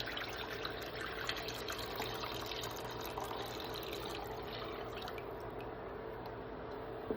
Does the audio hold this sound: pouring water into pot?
yes